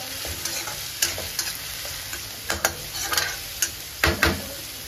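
Onion and tomato gravy being stirred and sautéed in a pan, with a steady soft sizzle and frying hiss broken by several sharp scrapes and clinks of a spoon against the pan.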